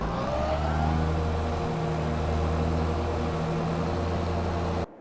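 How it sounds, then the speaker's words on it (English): Steady, droning engine hum from a tractor mowing grass in Farming Simulator 22, a constant mid-pitched mechanical whir with a slight rise at the start, running alone without talk until it cuts off abruptly. "While my tractor cuts the grass"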